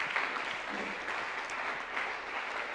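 Church congregation at a women's monthly gathering applauding in praise of the Lord, a soft, fairly distant patter of clapping, steady throughout.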